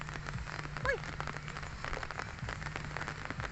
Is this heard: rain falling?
yes